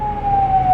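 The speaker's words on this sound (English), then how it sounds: "they got a loud ass siren outside" A loud emergency siren sounds outside, a strong steady wailing tone that holds throughout the short stretch.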